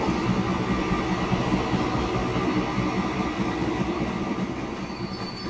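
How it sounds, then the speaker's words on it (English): An oil train rolls along the rails in the video game Transport Fever 2, a steady rumble with faint clickety-clack of wheels that holds at a constant loudness throughout. "Who gets there first? Oh, the oil train one."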